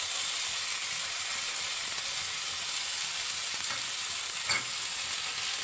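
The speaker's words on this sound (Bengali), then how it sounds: "এবার ভালো করে ভেজে নিই।" Moong dal roasts in a pan, giving a constant fine hiss of frying with a soft scrape or two from stirring, close and even, without voices.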